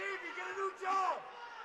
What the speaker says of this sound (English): We're hearing chirps coming from the crowd now.